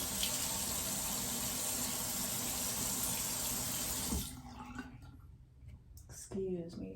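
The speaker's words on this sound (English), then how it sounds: "if I turn on the faucet" Bathroom sink faucet runs in a steady, loud rush of water for about four seconds, then shuts off, leaving a quiet room with a few faint small sounds and a brief voice near the end.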